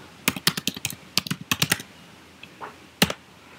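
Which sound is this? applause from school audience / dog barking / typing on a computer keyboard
typing on a computer keyboard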